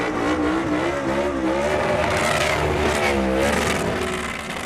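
Loud, continuous roar of a race car engine at high revs during a burnout, with tire squeal mixed into the dense, sustained noise.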